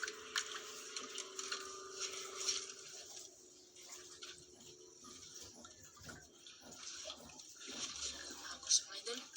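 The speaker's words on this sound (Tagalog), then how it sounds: "Malakas ang agos. Mga agos oh." A strong river current gushes and splashes in a steady, fairly faint wash of water noise, with a few louder surges. Voices talk quietly over it.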